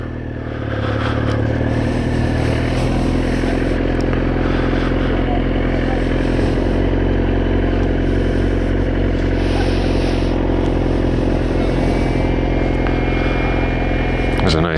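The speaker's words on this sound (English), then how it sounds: "There's a nice newer Mustang that just showed up." A newer Ford Mustang rolling into a car meet, its engine rumbling steadily and fairly close over a constant low background, with a faint rising whine toward the end.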